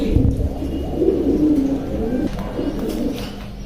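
Pigeons coo inside a racing-pigeon loft, low rolling coos near and clear over a soft background murmur.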